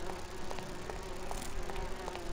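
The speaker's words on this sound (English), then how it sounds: "Are those giant flies?" Buzzing of giant flies or bees in the video game Grim Fandango, a continuous whining hum with small pulses, steady and close, with no speech over it.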